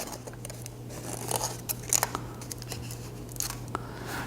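Foil is pressed and rubbed down over balsa wood and folded around its edges, making soft crinkling and scratchy scrunching sounds in short irregular bursts, close by over a low steady hum.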